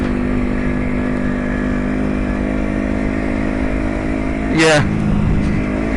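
A 125 cc cruiser motorcycle engine running steadily at a constant droning pitch close by, with a brief rise in revs midway before settling back, under a short spoken word.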